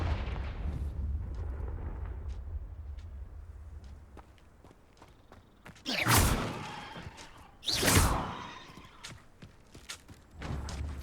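The Confringo spell in Hogwarts Legacy bursts as two loud whooshing explosions, one after the other, over quieter footsteps and ambient game noise. A softer thud follows near the end.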